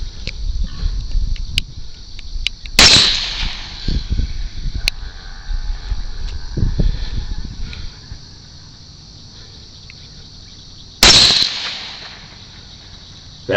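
Two sharp, loud rifle shots ring out at night during a hog hunt, about eight seconds apart, with a quick echo after each, between stretches of quiet outdoor night ambience and faint rustling.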